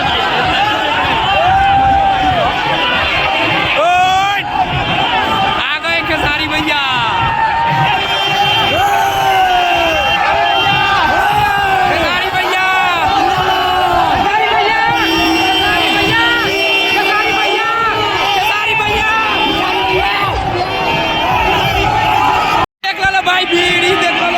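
A large crowd roars and cheers at a Khesari Lal Yadav political rally in Siwan, with many voices shouting and whooping over continuous loud babble. The crowd is close, and the noise is dense and sustained for the whole stretch.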